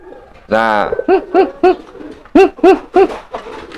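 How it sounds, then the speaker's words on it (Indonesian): A fantail pigeon coos loudly in courtship: a long opening call followed by a rhythmic series of about seven deep, rolling coos, close by, with a brief spoken word at the start. "Merpati kipasnya giringnya edan."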